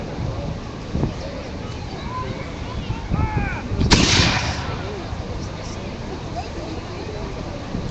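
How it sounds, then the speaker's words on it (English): A historical cannon fires at an outdoor armed forces show, one heavy boom standing out over crowd noise and open-air rumble, with someone talking over the scene. "So we see the cannon preparing another shot and moving the cannon forward."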